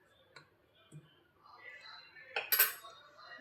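Namak pare dough ingredients being mixed in a bowl, with faint scattered clinks and soft scraping that builds into a brief cluster of louder taps near the end.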